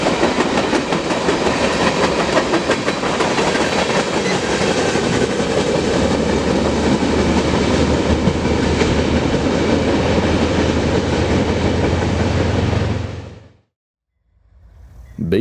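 A Santa Fe B40-8W diesel locomotive rumbles past with its train, a loud steady roar of engine and rolling wheels close by for about thirteen seconds before cutting off abruptly into silence.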